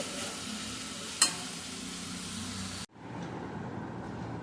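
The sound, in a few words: tossing and mixing chicken salad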